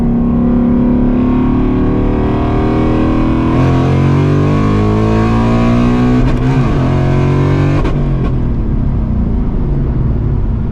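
A 486 hp Ford Mustang GT S650 revs hard in drag mode, its V8 climbing through rising engine pitch, loud and close from inside the car, with a brief lift and rev change near the end.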